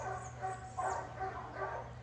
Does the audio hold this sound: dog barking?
yes